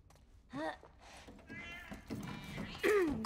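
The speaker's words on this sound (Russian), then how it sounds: "Чёртова кошка." A cat meows several times in The Last of Us Part 1: Left Behind, with rising and falling cries near the start and a louder meow at the end, over faint game ambience and occasional talk.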